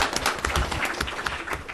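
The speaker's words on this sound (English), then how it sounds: "I think we should applaud." An audience claps at a talk on green governance in China, a short burst of scattered applause that stays fairly close and even.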